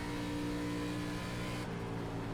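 Loud ARCA Menards Series race car engine in the iRacing sim, a steady high-revving drone held throughout with a slight drop in pitch near the end as the car gets loose mid-corner.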